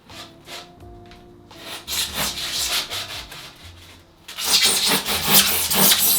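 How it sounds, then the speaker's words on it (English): A hand saw cuts through a scored board for a vivarium build, rasping back-and-forth strokes that start hesitantly then grow faster and louder, close to the microphone. "And now we're going to use a saw."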